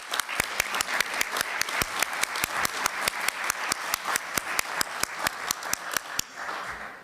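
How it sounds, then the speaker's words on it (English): Steady applause from a conference audience at a 2017 Concordia Europe Summit session, dense rhythmic clapping throughout, fairly close and even, easing off in the last second. "I want to give Greece applause for that."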